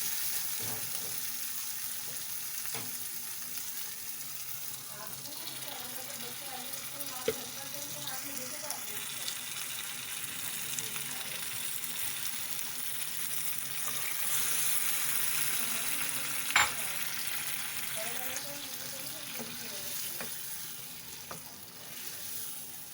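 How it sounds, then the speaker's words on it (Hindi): Water is poured into aloo chicken curry sizzling in a pan, giving a continuous hiss and crackle of frying with occasional sharp clinks of stirring, steady and close. "अब इसमें हम पानी डाल देंगे शोरबा करने के लिए।"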